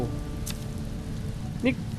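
Steady rain falls in a forest survival video game, a dense, even hiss that runs for the whole stretch, with a brief higher blip near the end.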